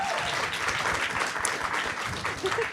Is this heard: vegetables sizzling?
no